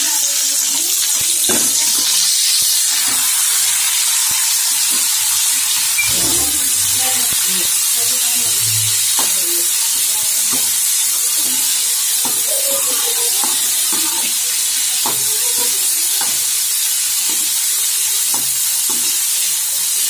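Green peanuts being stirred and dry-roasted in a hot pan, a steady broadband hiss with scattered scraping knocks throughout, close and fairly loud with no talking.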